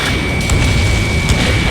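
A deep, sustained boom of a missile striking its target in the jet combat game Ace Combat 7, loud and rumbling throughout with a steady engine-like drone.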